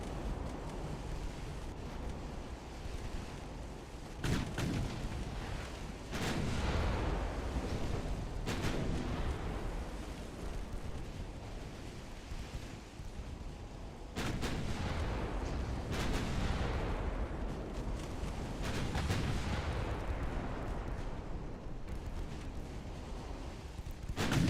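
Naval guns of warships firing in the Ultimate Admiral Dreadnoughts game, repeated heavy booming blasts with rumbling decay over a continuous windy, sea-like roar.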